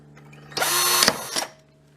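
Power drill with a small bit boring a pilot hole, one loud whirring burst of about a second with a brief dip, then it stops, leaving faint room hum.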